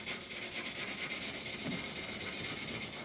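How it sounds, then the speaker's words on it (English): Vegetable brush scrubbing a surface clean in preparation for gluing, a steady, quiet rubbing and bristly scratching that goes on evenly throughout with no talk. "What did I do with that vegetable brush? Scrub that up as well as you can."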